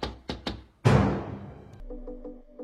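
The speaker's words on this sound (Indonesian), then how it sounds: "Tidak lama dari itu, ada yang mengetuk pintu." Three sharp knocks on a door in quick succession, followed by a heavy loud thud that rings out and fades, then quiet musical tones.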